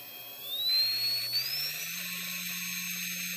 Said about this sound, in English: The first step is to measure how much power the motor pulls all by itself.